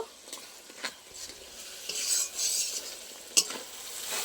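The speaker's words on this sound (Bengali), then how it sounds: "ভালো করে মশলার সাথে কষিয়ে নেবো" Spice paste is being stirred and sautéed in oil in a pan while cooking khichuri and cabbage ghonto. A close spatula scrapes in rhythmic strokes over a soft sizzle, and one sharp clink lands near the end.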